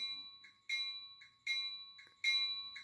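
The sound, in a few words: bell being hit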